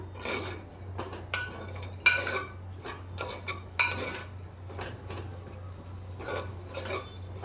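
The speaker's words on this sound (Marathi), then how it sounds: "आता त्याच्यामध्ये आपण हा गूळ टाकूया आणि चांगलं मिक्स करून घेऊया" Rice and jaggery being stirred together in a pan, with irregular metal spoon scrapes and sharp clinks against the pan over a faint low sizzle.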